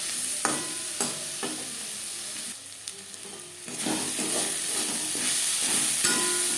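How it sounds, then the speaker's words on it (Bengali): Onions fry in a pan with turmeric for a masoor dal and banana-stem ghonto, a steady close sizzle and hiss broken by several sharp stirring scrapes, briefly quieter midway before the frying swells again. "পেঁয়াজ লালচে করে ভাজা হয়ে গেছে"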